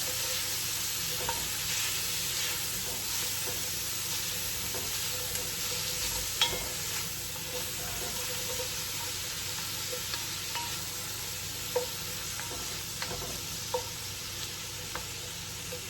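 Chopped onions and garlic sautéing gently in a soup pot for a tomato cheddar soup: a steady, even sizzle runs throughout with occasional small clicks and stirring taps, close and fairly loud, no voices.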